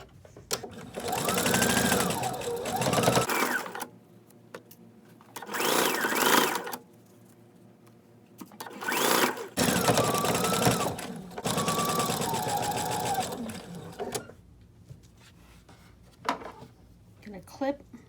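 A sewing machine stitches fabric for a baby gift in loud, rapid, even bursts separated by pauses. A voice speaks in the quieter gaps.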